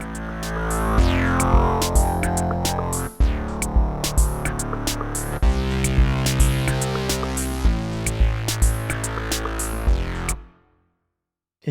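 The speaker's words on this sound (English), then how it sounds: "I can saturate the sound." Saturated Deluge synth sequence, warm and thick with repeating rhythmic notes and percussive clicks, loud and close, stopping abruptly near the end with no voices.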